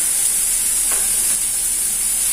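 Mushrooms with green chilies and salt sautéing in a pan for a Kerala-style dish, a close, steady hiss of frying with no pauses or voices.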